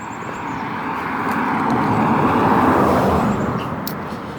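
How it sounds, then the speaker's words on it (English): A car approaches fast, swells into a loud rushing roar, then fades as it speeds past. "I hear a car coming at a huge rate of knots."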